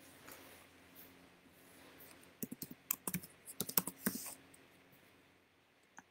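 Keys tapped on a computer keyboard in a quiet room, a few seconds of uneven, close-up clicks coming in quick bursts after a pause.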